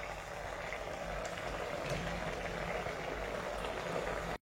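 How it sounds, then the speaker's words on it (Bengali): A pot of potato and eggplant curry broth boils steadily, with a dense, even bubbling and hissing at moderate volume that runs unbroken for several seconds. "আলু দিয়ে বেগুনের যে ঝোলটা, সেটা ভালো করে ফুটছে"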